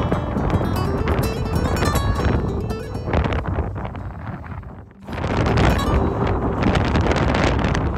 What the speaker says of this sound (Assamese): সঁচাকৈ আমি বতাহ এনজয় কৰিছোঁ